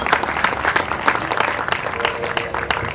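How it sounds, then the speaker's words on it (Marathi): An audience at a children's music event at a Pune welfare institution claps in a dense, continuous round of applause. The clapping is loud and close and lasts the whole moment. "चैतन्यसाठी पुन्हा एकदा टाळ्या वाजवूया आपण"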